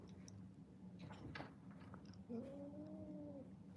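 Cats wrestle at close range, with faint scuffling and a short drawn-out vocal cry near the end, quiet overall.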